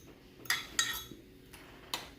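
Utensil clinks and scrapes against a bowl while chaffle batter is mixed, a few sharp near taps spaced about a second apart with no talking.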